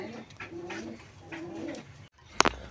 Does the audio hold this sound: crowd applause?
no